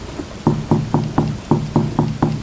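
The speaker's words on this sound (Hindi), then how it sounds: "दोनों खाने ही वाली थी कि तभी दरवाजे पर दस्तक हुई।" Knocking on a door in an animated Hindi cartoon story, eight steady evenly spaced knocks, close and loud, with no voices.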